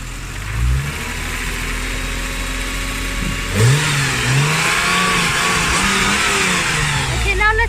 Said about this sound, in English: Let's listen to the Super Sprint exhaust. Nice burbling sound.